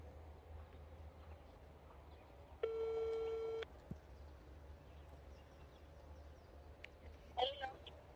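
A telephone call tone sounds once, a steady ringback beep lasting about a second over quiet room noise, followed later by a faint brief blip.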